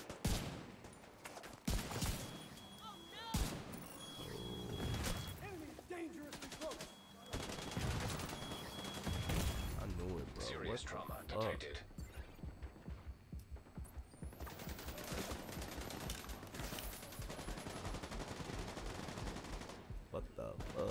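Rapid gunfire from a player-versus-player match in an online shooter game, with repeated bursts of shots and clattering weapon mechanisms, loud and dense throughout, thinning into scattered single shots toward the end.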